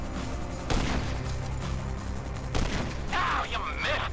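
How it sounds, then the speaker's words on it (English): Rapid bursts of gunfire from the video game Grand Theft Auto V, with a volley near the start and another around the middle, loud and sharp over a steady game background. "I'm shooting right at him."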